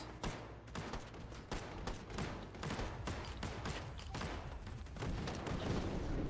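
Repeated buckshot shotgun blasts in a free-for-all video game match, a dense, steady volley of shots at moderate volume with almost no talking.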